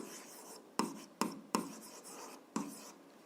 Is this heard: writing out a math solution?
yes